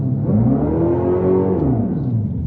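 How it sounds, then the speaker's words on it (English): A deep, steady engine-like exhaust rumble with a rising and falling tone, like revving, continuous and fairly loud for a couple of seconds; simulated exhaust sound from a Dodge electric car. "Dodge wanted to add some authentic sounding exhaust noise. Take a listen."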